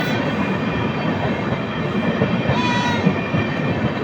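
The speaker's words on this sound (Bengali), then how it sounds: "সাইডাং এক্সপ্রেস কলকাতা ছেড়ে দেবগ্রামের ওপর দিয়ে চলে যাচ্ছে" Sairang Express, a long train out of Kolkata, passing through Debagram station without stopping, a loud continuous roar and rumble of wheels and carriages close by, with a faint high squeal near the end.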